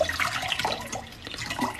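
Water trickles and splashes briefly into a cup for drinking, close by in a classroom, with no talk over it.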